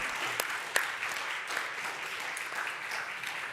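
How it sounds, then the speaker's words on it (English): Applause on the main stage of a crypto trading cup event, a fairly quiet, continuous patter of clapping from a modest crowd with a few sharper individual claps standing out. "Oh, we got a clap."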